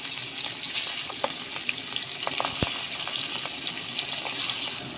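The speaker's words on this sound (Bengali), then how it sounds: "বন্ধুরা আমরা সরিষার তেলে ইলিশ মাছ ভাজতেছি" Hilsa fish sizzles and crackles in hot mustard oil in a pan, a dense steady frying hiss with scattered pops, close and unbroken throughout.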